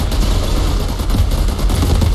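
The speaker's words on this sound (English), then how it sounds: "Thank god for my sniper rifle." Rapid sniper rifle fire in the sci-fi shooter Outriders during a fight with behemoth enemies, a dense, loud stream of overlapping gunshots and impacts without pause.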